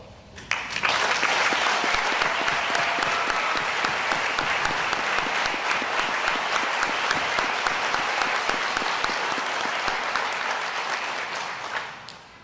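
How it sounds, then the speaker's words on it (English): Sustained audience applause honoring veterans at a senior awards night, thick even clapping that swells quickly, holds for about eleven seconds, then fades out at the end. "let's give them a round of applause"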